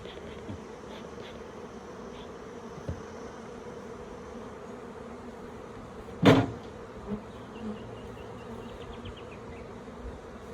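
Honeybees at crowded hives make a continuous low buzz throughout, with one sharp loud knock near the middle and a few lighter taps.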